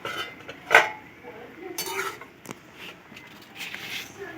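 A lid comes off a pot of boiled potatoes and elephant foot yam with a sharp metallic clank, followed by softer scattered clinks and pot knocks, fairly close and quiet overall.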